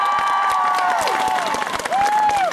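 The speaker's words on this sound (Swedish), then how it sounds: "Det är lite mer applåder kan jag säga." Crowd applause and cheers for a cosplay prize winner at a convention, loud continuous clapping with a voice speaking over it.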